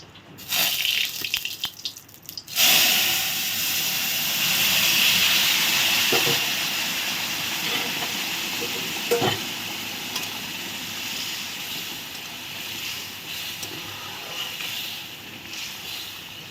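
Ingredients poured into a hot pan of oil with fried cumin seeds, a sudden loud sizzle that settles into a steady hiss under quieter kitchen clatter.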